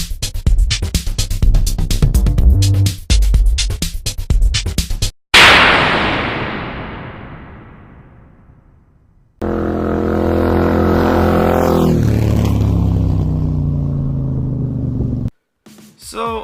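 A Harley-Davidson FXDR motorcycle roars under hard acceleration, its loud engine note climbing and dropping through gear changes with abrupt cutoffs and a sustained high-revving passage, heard close and without speech.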